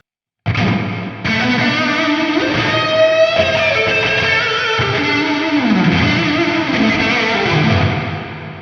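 Electric guitar played through a Pirate MIDI ToneX One pedal with the reverb mix turned all the way up and a ping pong delay running, so loud chords swell and wash into a long, dense, echoing tail.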